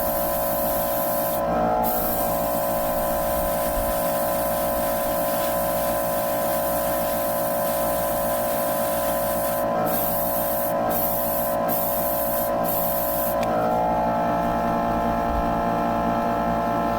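An aerosol can sprays chrome silver paint onto small plastic parts of an SD O Gundam model, producing a continuous loud hiss throughout with a steady hum and a few brief gaps.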